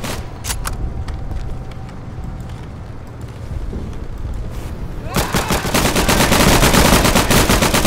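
Gunfire from the World War II shooter Day of Infamy on a beach assault: scattered single shots first, then dense rapid automatic bursts swell loud and close over battle noise.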